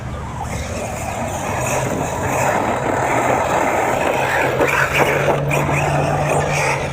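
A steady buzzing motor drone from a small radio-controlled truck after landing a jump, continuous and fairly loud, with some rough scraping texture throughout.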